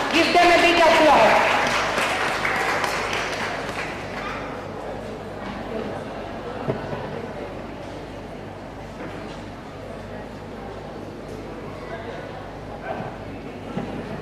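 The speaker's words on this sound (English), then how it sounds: "On those, the winners of the quiz are Team NRI and Team RMC. Give them a big applause." Conference audience at an obstetrics and gynaecology society meeting applauds quiz winners, loud clapping at the start that fades over a few seconds into a quieter hall with murmuring voices.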